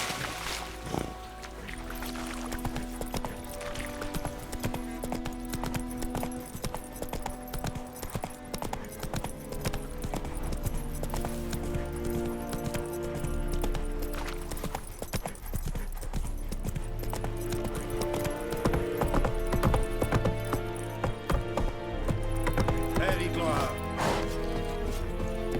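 Roach, a horse in The Witcher 3 video game, gallops with steady clip-clopping hooves under game music and ambient sound, with a voice speaking briefly.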